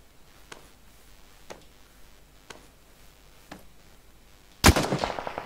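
Gunfire in PUBG: single distant cracks spaced about a second apart over a quiet background, then a sudden loud close shot followed by a rapid burst of ringing shots at the end.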